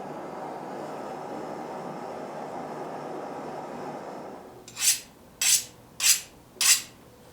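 Sanding a knife guard made from leaf spring steel produces a steady, even abrasive rush for several seconds. It then gives way to four sharp, evenly spaced knocks close by.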